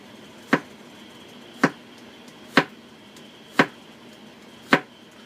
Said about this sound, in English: That's the sound of me mincing garlic.